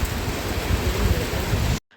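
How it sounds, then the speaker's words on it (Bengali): Sudden heavy rain pouring down during a hilly bicycle ride, a dense continuous hiss close by that cuts off abruptly after under two seconds. "চলতি পথে হঠাৎ বৃষ্টি।"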